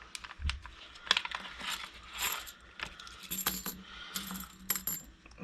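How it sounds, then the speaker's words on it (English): Metal coins from the Darwin's Journey board game clink and rattle in a loose handful, with bright jingling bursts scattered irregularly throughout, close and fairly clear, with no voice. "Some metal coins instead of just cardboard. I think that sounds so much more authentic"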